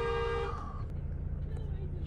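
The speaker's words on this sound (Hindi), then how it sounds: "उसको हॉर्न दे दें ताकि ज़रा आ जाए" A car horn blares loudly for about half a second, close by, then cuts off, leaving the rumble of an idling engine.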